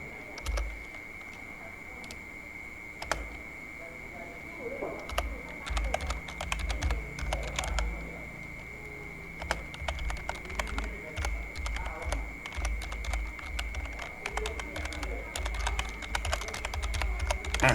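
Someone types a Facebook page name on a computer keyboard, a run of crisp, close key clicks in irregular bursts with brief pauses between them, over faint room hum and no voices.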